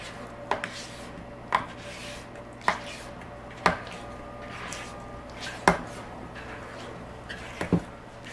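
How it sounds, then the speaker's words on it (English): A spatula scrapes the bottom of a bowl of honey butter cornbread batter in a steady series of short, crisp strokes, about one per second, close and moderately quiet with no talking. "Sometimes I like to take a spatula and just scrape the bottom, make sure that there's nothing dry"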